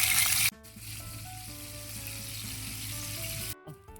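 Galunggong fish sizzling in hot oil, a steady close frying crackle that runs for several seconds after a sharp start, with faint tonal clinks over it and no talking.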